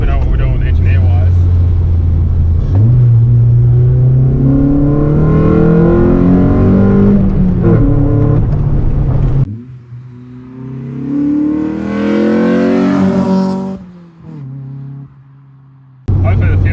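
SR20-swapped Datsun 200B SSS engine revving hard while driving, rising and falling through the gears, loud and close from inside the car, easing off toward the end.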